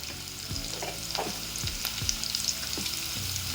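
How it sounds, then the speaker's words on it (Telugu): Onions and green chillies frying with salt in a pan for broad beans curry, giving a constant close sizzle with rhythmic scraping stirs about every half second. "కొంచెము దోరగా ఫ్రై చేసుకుందామండి ఆనియన్స్ని, పచ్చిమిర్చిని"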